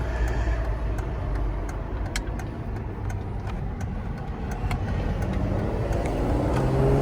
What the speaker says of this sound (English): Gotta love the sound of an M104.